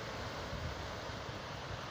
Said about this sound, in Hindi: ये पानी का बहाव आप देख रहे हैं कितनी तेज़ी से पानी जा रहा है।